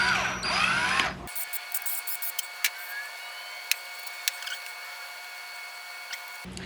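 A drill bit chamfers the top of a hole in a Briggs Intek carburetor, giving a brief, close whirring burst with a rising and falling motor tone for about a second, followed by near silence with a steady faint hum and scattered light ticks and clicks.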